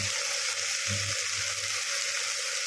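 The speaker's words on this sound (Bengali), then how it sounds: "বাটা মশলা দিয়ে ভালো করে নাড়াচাড়া করে নিলাম" Bottle gourd curry with fish head and ground spice paste sizzles steadily in a pan: a dense, even hiss close by, with a faint low bump of stirring partway through.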